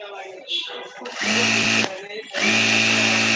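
Machine starting up and running again after an E05 error fault was fixed, a steady loud motor whine that cuts out briefly and then resumes, with a voice talking over it.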